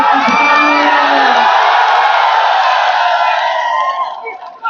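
A huge political rally crowd at Gandhi Maidan roars with whoops and cheers, loud and sustained for several seconds before tapering off, shouting voices blending into a dense wall of noise.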